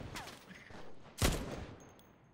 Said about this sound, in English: There are multiple people shooting here.